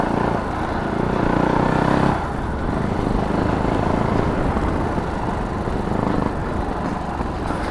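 Fantic Caballero Scrambler 500 motorcycle accelerating in first gear, a steady engine drone heard from the rider's position with rushing wind, louder at the start and then settling.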